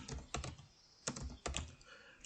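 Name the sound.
typing on a computer keyboard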